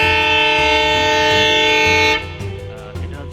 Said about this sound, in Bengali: এটা হচ্ছে ওই ট্রেন। এখানে আসছে গেদেতে, কলকাতা থেকে আসছে, এখন ছেড়ে চলে যাবে।